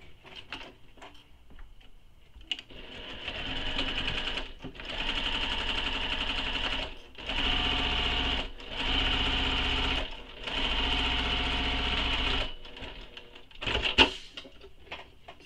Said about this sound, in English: then you'll sew it with the seam allowance given in the pattern